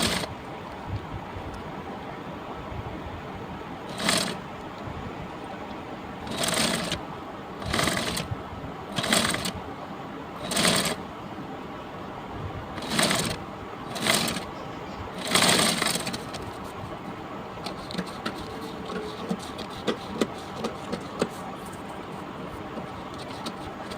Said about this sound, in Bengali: এখন আমি সেলোয়ারের কাপড়ে সেলাই করে নেব